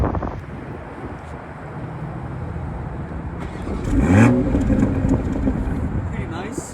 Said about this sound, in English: I'm gonna do the first startup,